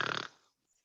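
A human voice imitating an animal snoring gives one short, rough snorting grunt that cuts off quickly into silence, heard close up during a drama class held online.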